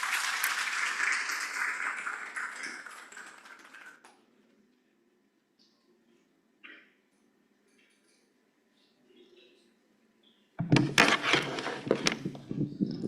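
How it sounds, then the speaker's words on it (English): A short burst of clapping from a group breaks out near the end, after a long stretch of near silence and an earlier noisy passage. "Let us all give Engineer Reynaldo R."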